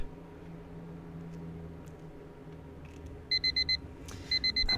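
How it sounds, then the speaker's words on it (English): An alarm clock in the Asagao Academy video game beeps in two short bursts of four rapid, bright electronic tones over a steady low background hum, with a brief gap between the bursts. "I woke up to my alarm beeping"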